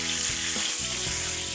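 Chicken pieces fry in oil in a pan, a steady close sizzle with soft crackles and a brief stirring shuffle midway, with no talking.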